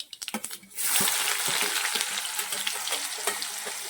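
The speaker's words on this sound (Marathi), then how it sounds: "थोडीशी मोहरी घालायची आहे थोडेसे जिरे घालायचे आहे आणि जो बारीक कट केले तो कांदा घालायचा आहे" Mustard seeds, cumin and finely chopped onion dropped into hot oil for a spicy soybean chunk curry, a few quick crackles then a loud, steady sizzle that keeps on under light stirring, with no talk.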